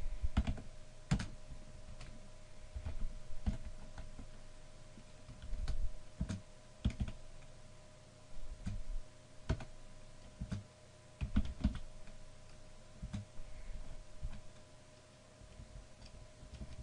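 Sparse keystrokes on a computer keyboard while writing a simple game in Notepad: isolated clicks and short bursts of taps with pauses between, close and quiet over a low steady hum.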